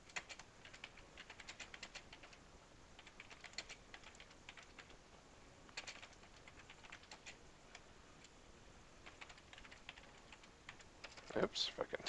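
Rapid, faint clicking of typing on a computer keyboard goes on in close, quiet bursts, with a brief louder clatter near the end and no talking.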